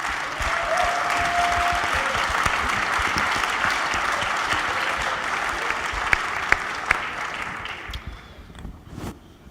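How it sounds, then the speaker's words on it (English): Audience applauding tennis players at an ATP event, a dense steady clatter of many hands that carries on loudly for about eight seconds before thinning and fading out near the end, with a few sharp isolated claps standing out. "Give a big applause for this, for us."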